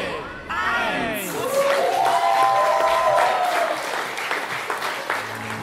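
A crowd bursts into loud cheering and applause at a Christmas tree lighting, with children's excited shouts and yells rising over sustained clapping for several seconds.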